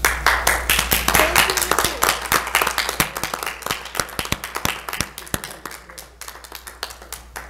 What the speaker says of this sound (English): I just feel like we need to have a clap offering.